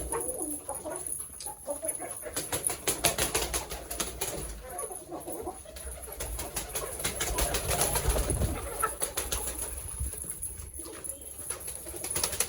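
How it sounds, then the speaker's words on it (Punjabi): Pigeons feeding on scattered grain near chickens in a farmyard setup, soft cooing and fluttering wing flaps mixed with occasional clucks, a busy low-level bird chatter with faint background voices. "ਕੁਝ ਕੁਝ ਕਬੂਤਰ ਬਾਈ ਆ ਆਉਂਦੇ ਆ ਉੜ ਕੇ ਦਾਣੇ ਖਾਣ"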